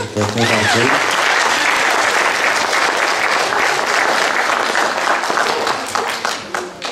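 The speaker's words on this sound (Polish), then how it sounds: "myślę, że też brawa jej się należy" An audience at a music school's pupil induction ceremony breaks into sustained, loud applause, many hands clapping densely and evenly throughout, with a brief bit of talk at the very start.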